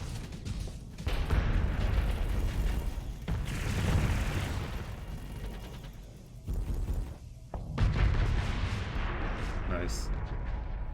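Weapon fire in the space game Starsector: repeated heavy booming bursts and rumbling blasts in clusters with brief lulls between, loud and close, while a person talks over them.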